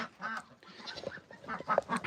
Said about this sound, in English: So here are the chickens and the roosters.